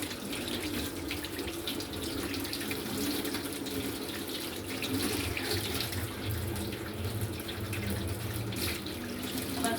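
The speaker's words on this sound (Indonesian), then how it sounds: "Setelah itu bilas pakai air mengalir." A tap runs for rinsing hands at a sink during a handwashing routine: a steady splashing stream of water, close and continuous, with no one talking.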